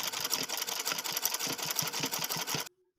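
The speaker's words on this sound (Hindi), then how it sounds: "फैब्रिक पे हमने इसको रख लिया और इसके बिल्कुल किनारे पे हम सिलाई लगा रहे हैं।" A sewing machine stitches along the very edge of lace laid on fabric, a fast, steady mechanical run of needle clatter, close and loud, that stops abruptly near the end, leaving near silence.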